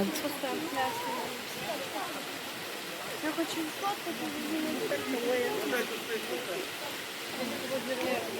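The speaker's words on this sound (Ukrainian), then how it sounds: "зараз ми будемо знімати сам водоспад" A steady, hissing roar of a waterfall where a crowd of visitors is gathered fills the whole clip evenly, with people talking over the rushing water.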